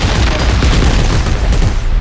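Dense, continuous gunfire in the sci-fi horror game Dead Space 3, loud and close, with overlapping shots and booms filling the whole stretch without pause.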